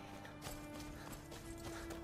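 Horse hooves clip-clop in the video game Skyrim, a quiet, irregular run of hoof knocks over faint background hum, with no talk.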